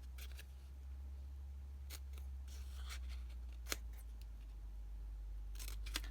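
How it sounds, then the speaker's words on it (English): Scissors snip paper corners to make small V-shaped cuts, with a few sharp, isolated clicks spaced apart over a low steady hum in a quiet room. "I'm going to snip off at the corners so that I can fold those edges over neatly"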